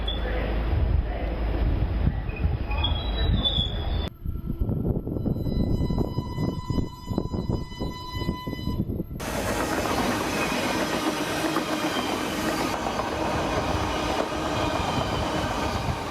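Battery-powered passenger train in England travelling at around 30 to 40 mph, giving a steady loud rumble with rail clatter and a brief high-pitched tone, the sound shifting as the scene changes.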